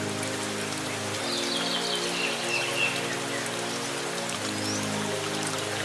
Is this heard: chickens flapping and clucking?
no